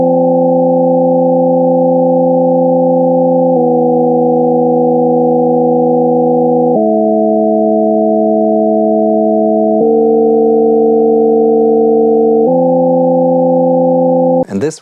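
Subharmonic generator divisions of a synthesizer producing steady, sustained harmonic tones that step to new pitches every few seconds, loud and alone, with a brief burst of noise at the very end.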